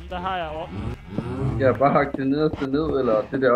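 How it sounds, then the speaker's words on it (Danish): Cows in a Minecraft-style video game mooing in repeated drawn-out calls, loud and close, while people talk over them. "Det er køerne."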